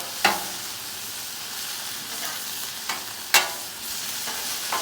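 Garlic sizzles and browns in a hot pan for chicken fried rice, a steady frying hiss broken by a few sharp clinks and scrapes of stirring.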